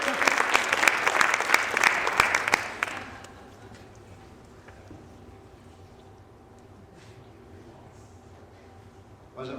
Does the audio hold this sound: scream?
no